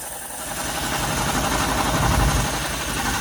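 Rolls-Royce engine running at a steady idle after ignition work on its carburetors, a continuous low rumble with a faint knock, close and unbroken for a few seconds.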